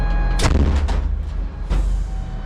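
Two heavy artillery gun blasts boom out near Toretsk, Ukraine, the first sharp and loud, the second a bit later, each followed by a deep rumbling echo.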